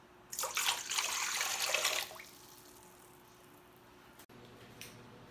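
Vegetable oil and water pour steadily for about two seconds, then stop, leaving a quiet room with a faint tap near the end.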